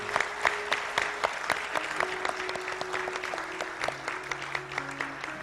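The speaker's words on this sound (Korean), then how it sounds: "축복의 박수 해주시기 바랍니다" A church prayer meeting congregation applauds in encouragement, brisk overlapping claps with a few distinct sharp hits throughout.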